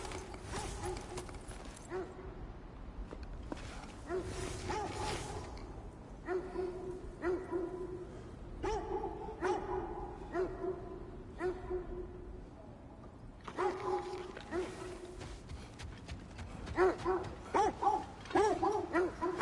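Dogs bark and yip repeatedly in God of War Ragnarok, fairly faint and spread through the scene, with pauses, a little low thumping and brief game audio between the barks.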